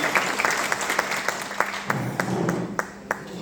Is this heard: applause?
yes